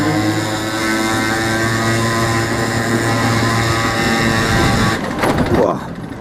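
A motorcycle ridden hard gives a loud, steady engine drone at high revs with a strong tonal hum, then shifts and roughens near the end.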